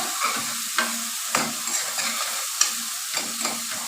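A tadka tempering for dal fries and sizzles in a pan close by, with a soft constant crackle and repeated scraping stir strokes at an uneven rhythm, no voices.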